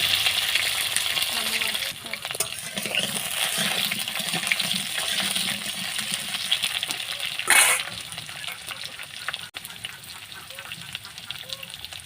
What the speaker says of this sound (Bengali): তেলটা গরম হয়ে গেছে, আলুগুলো কিন্তু আমি ভেজে নেব।